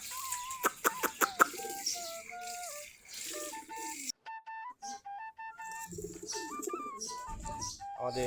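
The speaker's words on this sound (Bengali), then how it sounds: "আমাদের মোটামুটি অনেকগুলো এখন কবুতর আছে, সবগুলো দেশি গিরিবাজ কবুতর।" Deshi Giribaz pigeons in a flock coo and call intermittently over several seconds, mixed with rattling sounds and steady whistle-like tones, with no talking.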